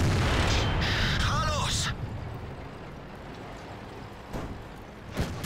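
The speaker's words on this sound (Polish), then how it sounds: "I znowu się pocisk odbił przeciwnika." In World of Tanks, a heavy cannon boom is followed by a sharp metallic ping as a tank shell glances off enemy armour, then distant thuds and a fading rumble as someone talks.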